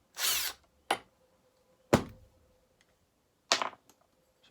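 A power tool takes the nut off a Pioneer P40 clutch side crank in four short, separate whirring bursts, the first the longest, with quiet gaps between.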